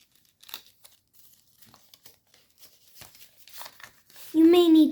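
Paper being folded into an origami F-35 jet gives off sparse, soft crinkles and creases, quiet and close, before a voice cuts in briefly at the end.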